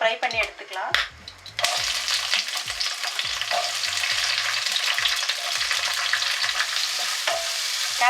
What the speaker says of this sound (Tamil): முதல்ல நம்ம கேப்சிகத்தை வந்து கொஞ்சம் ஃப்ரை பண்ணி எடுத்துக்கலாம்